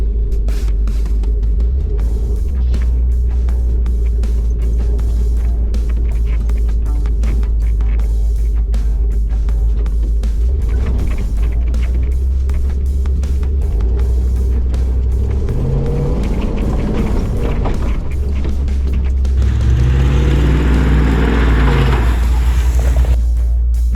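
An old Jeep Wagoneer, left sitting for years, drives along a bumpy road with a loud, continuous engine and road rumble close up and a rising engine note near the end.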